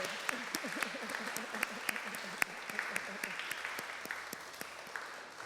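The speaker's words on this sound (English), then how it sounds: "Would you stand up and just give yourself a round of applause?" A crowd applauding steadily throughout, dense clapping with a few sharper claps standing out, and a voice speaking briefly under it.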